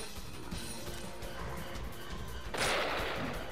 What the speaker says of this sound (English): The problem with like just sort of spamming the knockdown on the shotgun is that it does very little damage.